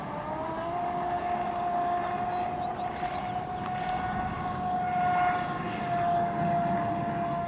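Electric RC speedboat on a 6S LiPo pack running on water at a distance, a steady high-pitched motor whine with a continuous droning tone that rises and falls slightly as it moves.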